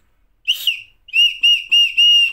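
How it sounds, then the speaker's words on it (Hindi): A small plastic toy whistle from a five-rupee snack packet blown in short shrill bursts, one brief toot followed by three longer piercing blasts, loud and close. "कितनी मस्त आवाज़ आ रही है भाई सीटी है बड़ी बढ़िया बजती है"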